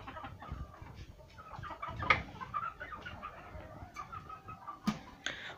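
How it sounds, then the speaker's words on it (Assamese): Local backyard chickens on their nests in Sirajuli, Assam, cluck softly nearby in scattered bursts, with a few sharper clucks rising above a quiet background. "এয়া মুৰ্গীবিলাক এনেকুৱা বাহৰ ওপৰত থাকে।"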